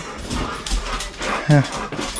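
Dogs whimper, yip and pant excitedly close by at an outdoor spot in Edmonton, Alberta, with a short sharp yelp midway and people talking over the commotion.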